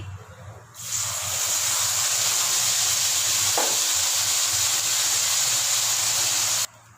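Tomato gravy poured into a pan of frying spices for a moong dal spinach kofta curry sets off a loud, steady hiss and sizzle that starts suddenly and holds for several seconds before cutting off.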